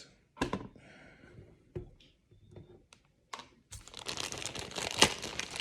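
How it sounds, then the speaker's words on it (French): A small plastic bag of screws for an Altaya Optimus Prime model kit being opened, with close crinkling and rustling of plastic plus a few tapping clicks, growing into a steady louder crackle toward the end. "On va ouvrir le sachet"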